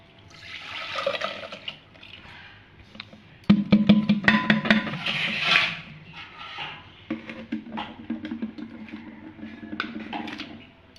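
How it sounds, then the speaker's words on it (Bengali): Buttermilk left after churning butter is poured out, a splashing, gurgling liquid flow with a few knocks and clatters of the container, close by and moderately loud. "এবার ঢেলে দেবো দুধটা।"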